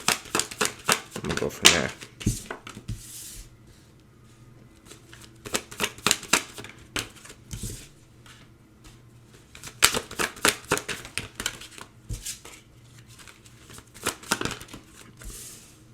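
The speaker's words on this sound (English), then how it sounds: "Just give me a minute to kind of pull out some cards." Tarot cards get shuffled and pulled from a deck in quick bursts of riffling, flicking and slapping, close and crisp, separated by quiet pauses, with a voice speaking briefly over part of it.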